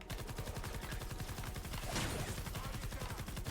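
A light machine gun fires in Fortnite Save the World, a rapid, unbroken stream of evenly spaced shots at close range, loud and continuous with a brief surge of impact noise partway through, no speech.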